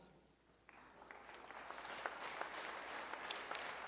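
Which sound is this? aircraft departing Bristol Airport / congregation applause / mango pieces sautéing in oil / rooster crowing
congregation applause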